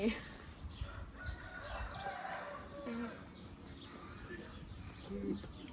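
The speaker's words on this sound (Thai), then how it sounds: "มีแต่ไก่" Chickens and a rooster sound in a rural yard, with crowing and clucking calls scattered across several seconds, faint and somewhat distant, mixed with background murmur.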